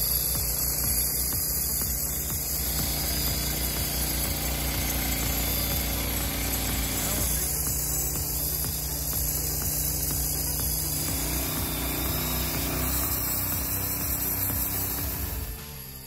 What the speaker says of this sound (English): the Frontier OS27 saw is the perfect choice for wood processing on all scales